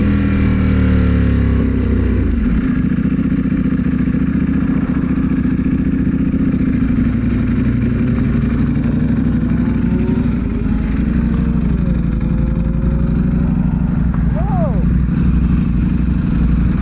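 A lowered Ducati superbike engine drones steadily while the bike is ridden, a loud, sustained mid-pitched roar with gentle rises and falls in revs and wind buffeting throughout.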